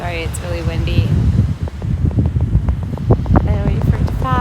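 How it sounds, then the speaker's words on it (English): Strong wind buffets the microphone outdoors, rumbling low and uneven in gusts beneath a person talking continuously. "sorry, it's really windy."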